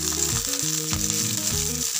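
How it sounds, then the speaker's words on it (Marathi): Green chillies fry in oil in a kadhai with a bright, steady sizzle and crackle, close and continuous for two seconds, with a low tonal hum underneath and no talking. "मिरची भाजून घेऊया।"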